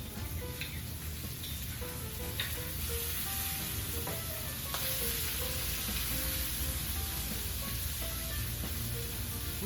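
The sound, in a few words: garlic added to sautéing peppers and onions, sizzling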